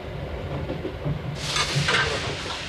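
Rumble of a first-class Pullman-type expedition train running on rails through the Tian Shan mountains, a steady low roll that swells into louder hissing wheel and carriage noise halfway through, with no voices.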